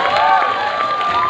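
Crowd cheering and shouting at a Mr. & Miss Freshers 2022 crowning at Nagaland University, Lumami, loud and steady, with high whoops and a sustained tonal whistle or shout over the din.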